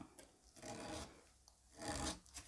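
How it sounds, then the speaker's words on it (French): A nail file rasps back and forth on a fingernail's free edge in two short strokes, a soft scratchy rubbing sound, close and quiet. "Un coup de lime sur mon bord libre."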